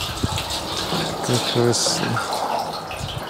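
Water gushing from a tap as an Intex Easy Set 28101 garden pool is filled outdoors at a dacha, a steady moderate rush running under nearby conversation.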